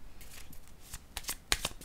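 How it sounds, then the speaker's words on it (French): Tarot cards are handled and laid down on a table, a quick run of soft, papery flicks and slaps over under two seconds, close and fairly quiet with no speech. "Allons-y avec la carte du travail et je vais déposer une carte rose."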